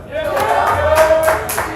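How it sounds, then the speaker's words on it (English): Cheering from a crowd of players at a pub trivia night, a short burst of hollers and whoops mixed with some talk, lively and fairly close. "Cheering for yourself."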